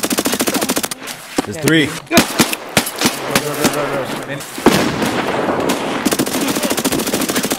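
Gunfire in the shooter game Escape From Tarkov: loud close bursts of rapid automatic fire and single sharp shots, with a sustained stretch of fast machine-gun rattle at the start and end, while a player speaks briefly in between.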